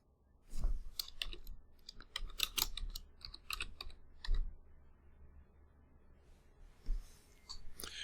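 Typing on a computer keyboard while entering a virtual machine name in VirtualBox: bursts of quick, close key clicks with brief pauses between them, no talking.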